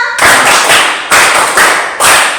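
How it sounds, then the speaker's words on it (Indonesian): Five sharp hand claps from a classroom concentration exercise, spaced at a steady, fairly quick rhythm, loud and close with no talk over them. "Tepuk 1, tepuk 2, tepuk 3, tepuk 4, tepuk 5"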